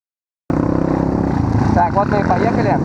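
Several quad bikes and motorcycles idle and warm up together at a sandy riding spot, a close, steady pulsing engine drone that starts abruptly, with people talking over it.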